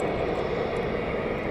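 Airliner engines roar in reverse thrust after touchdown at East Midlands Airport, a broad, steady, fairly distant rumble lasting throughout without a break.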